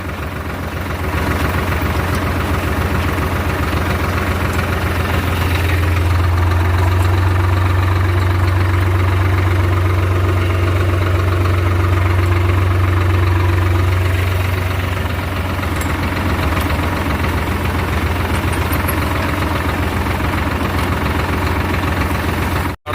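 A tractor running a potato-digging machine in a potato field runs steadily at close range, a loud, continuous low rumble with a faint knocking throb and no voices.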